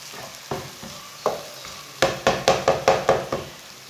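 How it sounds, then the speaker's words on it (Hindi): Garlic frying in a pan for a potato chicken curry, with a soft sizzle under scattered spoon taps that turn into a quick run of about eight rhythmic stirring knocks and scrapes near the end. "लहसुन को भी 1 मिनट तक पका लेंगे।"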